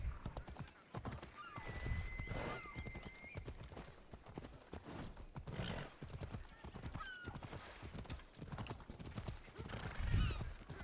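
Steady clip-clop of horse hooves trotting close by in Assassin's Creed Odyssey, with a horse whinnying briefly and a voice speaking intermittently over the rhythmic hoofbeats.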